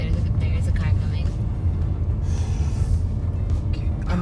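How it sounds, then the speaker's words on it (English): Car driving along a narrow country road in Cornwall, a steady low engine and road rumble close by throughout, with people talking over the noise. "There's a car coming."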